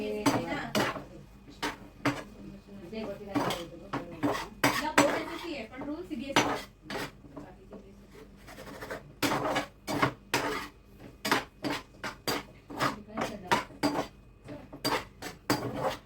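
Fried soybean chunks being mixed into gravy in a pot, with repeated clanks of a metal spoon against the pot in an irregular rhythm, close and fairly loud, and low background voices now and then.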